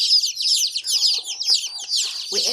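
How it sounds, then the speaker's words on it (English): A crowd of newly arrived baby chicks, black Australorps among mixed layer breeds, peeping rapidly in high, overlapping chirps, close and loud with no talk. "the chicks arrived this morning"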